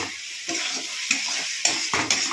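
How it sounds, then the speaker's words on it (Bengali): Chicken being sautéed for kosha in a pot with a little water, with a loud close sizzle, rhythmic scraping and stirring strokes, and light clinks of a spoon against the pot. "এবার পারলে হালকা একটুখানি জল দিয়ে কষতে থাকুন।"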